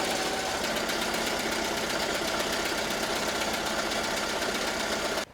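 An embroidery machine stitches the final satin stitch on an Easter dress, a steady, fast mechanical chatter with a dense rhythmic needle pulse running loud and close throughout, then cutting off abruptly at the end.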